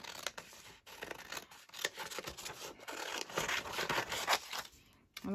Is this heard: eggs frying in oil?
no